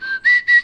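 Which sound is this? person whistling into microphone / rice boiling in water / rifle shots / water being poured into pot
person whistling into microphone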